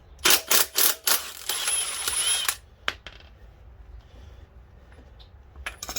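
A long wrench works the 27 mm rear wheel nut on a 2003 Kawasaki Concours motorcycle, producing several sharp, close metallic clicks, a brief grinding burst, then a few faint taps.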